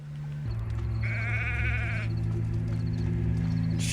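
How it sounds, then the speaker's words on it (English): A sheep bleats in the video game Hogwarts Legacy, one wavering, quavering call of about a second over a steady low ambient drone, with no talking. "Sheep."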